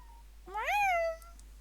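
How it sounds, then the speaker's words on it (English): A single clear house cat meow rises and falls in one drawn-out call, fairly close and alone over a quiet background with a low steady hum. "She's a good kitty."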